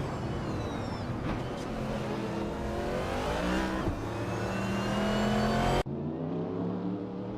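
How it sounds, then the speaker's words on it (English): A 1988 Toyota 88C-V race car engine in a racing video game revs hard and steadily. Its pitch climbs through the gears, briefly dips and rises again, then cuts abruptly to a lower, steady drone. "Pippi Langstrom is racing a Toyota 88 CV from 1988."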